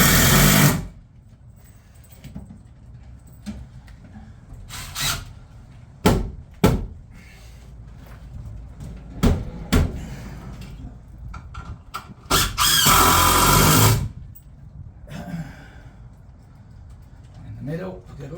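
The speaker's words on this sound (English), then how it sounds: "There is a timber plate above, so I can just screw straight up and in like so." A screw is driven up into a timber plate above a window opening, heard as several short, loud whirring bursts from a power driver with taps and knocks between them.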